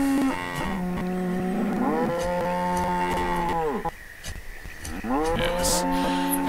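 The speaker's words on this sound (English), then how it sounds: "Oh, that cow's sort of escaping." Cows in the city-building game Banished moo loudly in long, drawn-out calls, several overlapping or following one another across the whole stretch with no talk over them.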